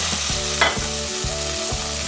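Spices frying on low heat for spinach dal, a dense, continuous sizzle with soft stirring movements and faint repeating hum underneath, close and fairly loud.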